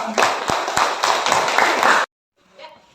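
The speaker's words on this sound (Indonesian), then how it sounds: "Beri tepuk tangan." Students give a brief burst of clapping in a classroom, several hands patting for about two seconds before it cuts off, followed by faint talk.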